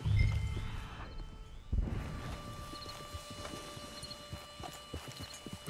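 Horse hooves clip-clop on a trail in Red Dead Redemption II at a steady walking rhythm, close and clear. A brief rustle or snort comes early and faint game ambience runs underneath.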